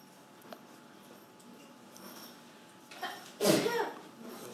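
One sharp sneeze bursts out near the end, close by in a quiet indoor space, and is followed by brief talk.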